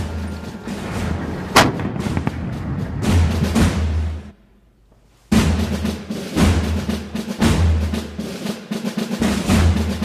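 M1 Abrams style battle tank firing its cannon: heavy, booming blasts over a continuous low rumble, loud and close, broken by a brief silent gap before the firing resumes.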